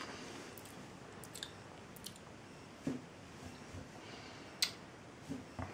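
Elk meat being chewed close to the mouth, quiet soft mastication with a few sharper clicks and squishes spread irregularly over a hushed background.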